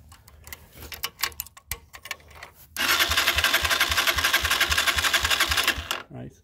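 A 2022 Honda CG 125 motorcycle's starter motor cranks the engine in a loud, fast, steady whirring rattle lasting about three seconds, close up, then cuts off. Quieter clicks and handling noises come before it.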